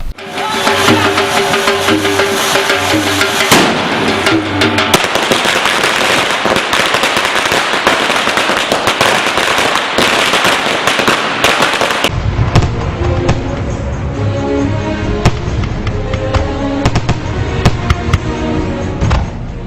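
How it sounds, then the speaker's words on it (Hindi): Diwali fireworks and firecrackers bursting over the city of Ratlam, loud, continuous crackling and popping with dense rapid explosions throughout, the sound shifting partway as the recording changes. "सारा शहर रंग बिरंगी आतिशबाजी से गूंज उठा"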